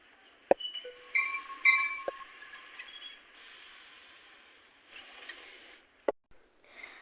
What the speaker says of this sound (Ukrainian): Так, ну, все, як ви бачите, то вже метро приїхав.